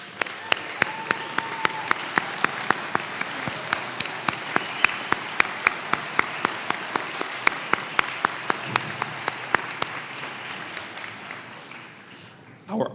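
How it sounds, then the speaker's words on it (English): Audience applause at a winter college commencement ceremony as first-generation graduates stand to be recognized: sustained, even clapping from a large indoor crowd, tapering off near the end. "please stand and be recognized with a round of applause"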